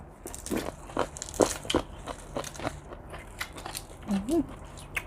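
Spicy cuttlefish papaya salad is chewed with loud, crisp crunching bites in an irregular rhythm, close to the mic, with a brief vocal sound near the end.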